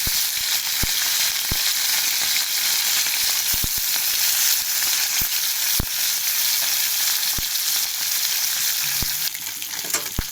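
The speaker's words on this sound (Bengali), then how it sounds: "আমার তেলটা গরম হয়ে গেছে। এক এক করে মাছগুলো ছাড়বো" Fish pieces frying in hot oil, a loud, continuous crackling sizzle close by, punctuated by sharp clicks and pops scattered throughout.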